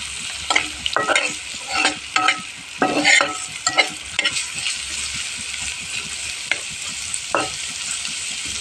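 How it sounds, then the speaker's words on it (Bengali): Onions frying in oil in a pan, with a constant crackling sizzle and a series of sharp stirring scrapes and clinks, most frequent early on before settling into steady frying. "পরিমাণ মতো তেল দিয়ে পেঁয়াজগুলোকে ভেজে নিব।"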